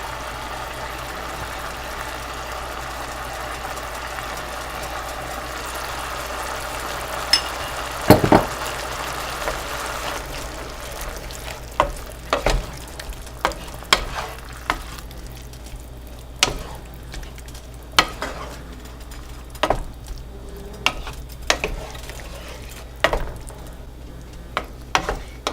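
Pad Thai sauce boiling in a pan, a soft continuous bubbling sizzle over a low hum, punctuated by a run of sharp clicks and knocks from the pan and utensils.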